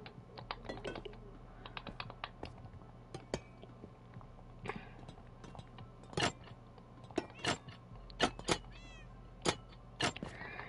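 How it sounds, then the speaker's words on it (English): Cats meowing at a cat cafe in a Minecraft realm, with several short, high meows scattered over rapid computer keyboard typing and clicks, fairly faint and close. "You guys hear the cats from the cat cafe up there?"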